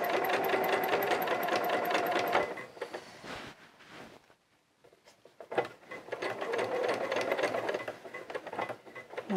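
A sewing machine stitches a children's Eden coverall in bursts, its rapid, even needle chatter running steadily for a few seconds, pausing, then starting again for a longer stretch, close and fairly loud with no talking.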